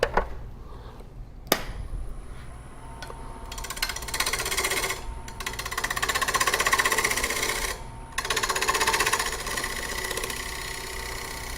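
A wood gouge cuts a bowl on a woodturning lathe, a steady rough scraping and rasping that swells and dips in long passes, with a brief sharp knock early on and short pauses between cuts.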